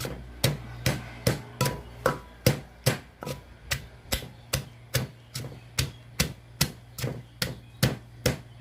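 Chilies and shallots are pounded in a mortar, with about seventeen sharp, close thuds coming in a steady, even rhythm of roughly two per second. No one speaks.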